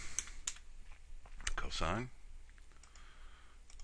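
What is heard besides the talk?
typing and clicking on a computer keyboard and mouse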